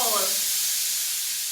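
Steam hisses loudly and steadily out of a cooking pot, a constant airy rush that carries on after a brief voice-like tone at the start.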